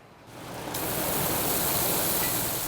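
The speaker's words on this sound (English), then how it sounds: "The noise is constant at J&K Dairy, from fans to water soakers." Dairy barn fans and water soakers cooling cows blend into a loud, constant hissing roar of air and spraying water, swelling up within the first second and then holding steady.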